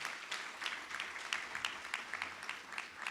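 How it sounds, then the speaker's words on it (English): Crowd applause fills a hall at a Kansas master teacher award ceremony, many hands clapping in a steady, even wash for a few seconds. "Let's give all of them a big round of applause."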